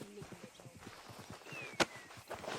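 Hooves of a horse in the video game Red Dead Redemption 2 clip-clop at a steady walking pace, with a brief sharp swish and faint voices in the background.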